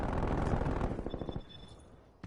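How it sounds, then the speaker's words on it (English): A hostile sentry turret in a video game fires a loud, rapid automatic burst that tapers off. A thin electronic tone runs underneath, and a final sharp hit comes at the end. "Hostile sentry turret active."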